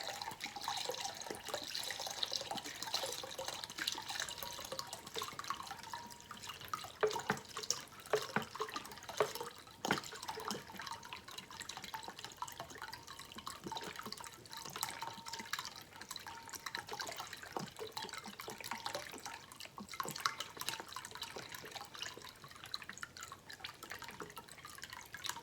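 Tap water runs into a 4-cup measuring cup in a continuous, close splashing stream with dripping patter, lasting about half a minute without any talk.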